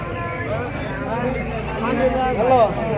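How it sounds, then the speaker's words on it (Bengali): Castrated male goats bleat at a busy Qurbani livestock market, with a couple of wavering cries late in the moment rising over constant nearby chatter and crowd murmur. "ভাই ও জোড়া খাসি ছাগল ভাই"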